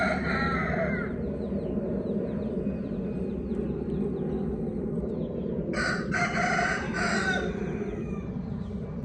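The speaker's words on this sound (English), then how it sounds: "I'm out here with the roosters and the crows and all that in Bali." Roosters crow outdoors in Bali, a loud harmonic call near the start and another strong crow from about six to seven and a half seconds, over a steady bed of rural ambience with distant bird calls.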